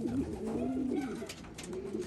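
Racing homing pigeons give soft, low, rolling coos close by, several overlapping calls in a continuous murmuring stream within a loft.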